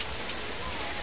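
Steady rain falls as a soft, even hiss of drops on a surface, faint and continuous with no break.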